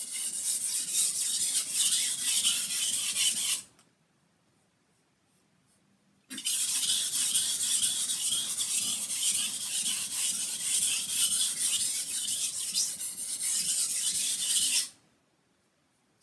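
A kitchen knife scrapes back and forth across a coarse water stone in a steady, close raspy grind, with two long sharpening passes broken by a brief silent pause.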